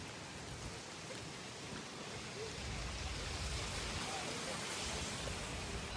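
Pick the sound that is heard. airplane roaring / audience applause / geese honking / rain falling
rain falling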